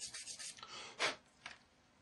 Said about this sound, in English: these are the undersides I'm sanding here